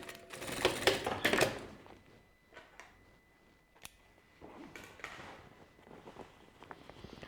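Stitching a milk carton into a backpack's fabric lining: bursts of rapid, close mechanical clicking at the start, then scattered softer ticks and handling noises.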